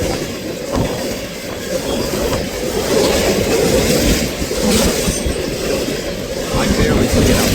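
A dusty freight train rolls past on the rails, loud and close, with continuous rumble, wheel clatter and occasional squeals, while a voice speaks faintly underneath.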